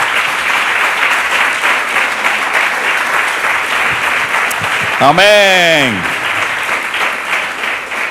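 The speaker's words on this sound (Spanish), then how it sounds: "Dele un aplauso al Señor" Church congregation applauding steadily and loudly for about eight seconds, with a voice saying a short word and then singing in the middle.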